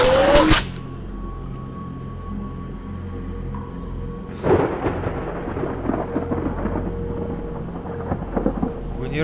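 A sharp, loud thunder crack from a nearby lightning strike opens, followed by a heavy rumbling roll of thunder a few seconds later over steady rain, with a faint whine in the background.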